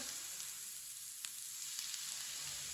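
Red chilli and turmeric powder roast in oil in a pan over low heat, giving a faint, even sizzle throughout with a couple of tiny clicks.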